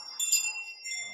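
A cardinal wind chime gives a brief, faint metallic tinkle of sustained high ringing tones, two light strikes a fraction of a second apart, close and quiet.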